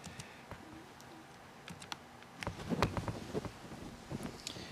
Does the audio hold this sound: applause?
no